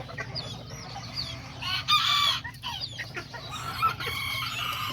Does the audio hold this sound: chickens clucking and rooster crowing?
yes